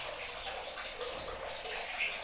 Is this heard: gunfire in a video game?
no